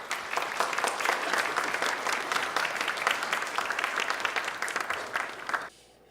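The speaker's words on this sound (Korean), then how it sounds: "박수로 맞이하겠습니다" Sustained applause from a church congregation at a university worship service greets a retired pastor stepping up to preach, a dense even roar of clapping that holds steady for several seconds and then cuts off abruptly near the end.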